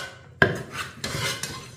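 Boiled green gram (pasi payaru) being mashed with a spoon against a pot: a sharp metallic clink followed by soft scraping and rubbing strokes, close and fairly quiet.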